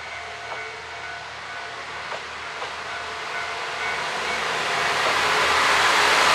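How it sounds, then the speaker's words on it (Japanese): JR Hokkaido KiHa 54 diesel railcars pull away from a station on the Hanasaki Line, their engine hiss and rumble growing steadily louder over several seconds, with no voices. "釧路行き普通列車、根室行き普通列車が同時に発車します"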